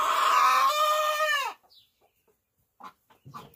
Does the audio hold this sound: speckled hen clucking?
yes